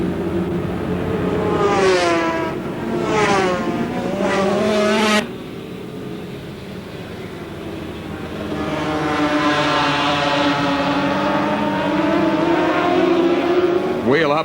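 1989 250cc twin-cylinder two-stroke racing motorcycles at Lakeside circuit rasping hard, then falling and rising in pitch through quick downshifts before the engine note climbs again as the bikes power away, loud and close.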